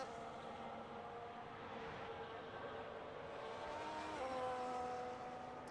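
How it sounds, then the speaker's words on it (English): A Ferrari race car engine drones steadily in an onboard view from a PC racing game during a qualifying session at Japan, its pitch climbing and then shifting with gear changes at moderate loudness. "Let's join him on board so we can hear the Ferrari engine roar."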